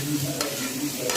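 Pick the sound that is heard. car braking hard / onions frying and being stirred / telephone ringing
onions frying and being stirred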